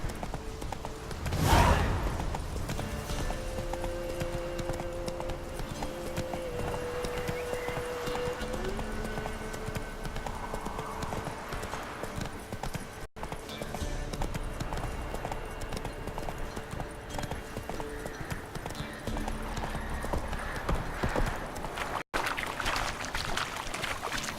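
Horse hooves clip-clop steadily at a gallop through a wooded area in The Witcher 3, carrying on for the whole stretch under a continuous game music and ambience bed, with no talk.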